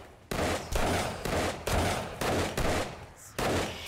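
Loud bursts of gunfire in the video game 7 Days to Die come in about six sharp, close volleys, each cut short by a brief pause, with no one speaking.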